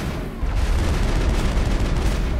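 Sniper gunfire during a fight near the Geth in Mass Effect, heavy overlapping shots and booms forming a steady loud barrage with no clear gaps.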